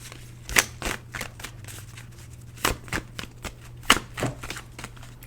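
A tarot deck is shuffled by hand in quick riffling bursts separated by brief pauses, close and fairly quiet, with a low steady hum underneath.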